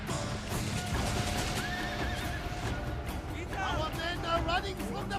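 Cavalry horses neighing and galloping in the battle game Shogun 2 Total War: repeated whinnies over a busy clip-clop of hooves, with speech babble mixed into the battle.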